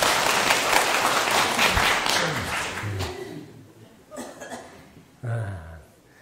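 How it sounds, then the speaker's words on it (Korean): Audience applause at a lecture, dense clapping from many hands that tapers off after about three seconds into a few scattered claps, with brief murmurs and a cough in the quiet tail. "박수 한번 주세요"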